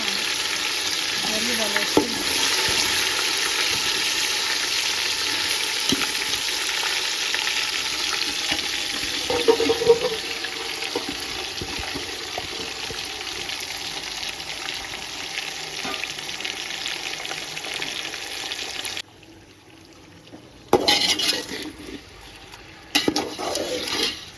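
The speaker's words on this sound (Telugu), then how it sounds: "మ్యారినేట్ చేసుకున్న చికెన్ వేస్తున్నానండి స్మెల్ మసాలాలు అంతా బాగా ఫ్రై అయినాయి కదా" Marinated chicken frying in spiced masala for a Bangalore-style chicken donne biryani, a steady loud sizzle with stirring clatter throughout, briefly cutting out near the end before resuming.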